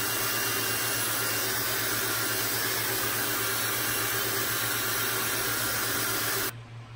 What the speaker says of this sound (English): Same blow dryer, highest heat, concentrated with a concentrator tip.